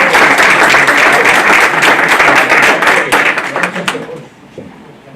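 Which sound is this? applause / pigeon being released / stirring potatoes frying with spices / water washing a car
applause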